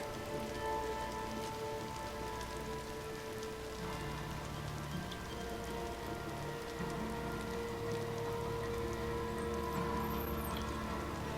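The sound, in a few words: rain falling in the video game Days Gone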